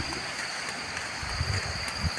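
A waterfall rushes steadily outdoors, a continuous broadband wash of falling water with a deeper low rumble swelling in the second half; no one speaks.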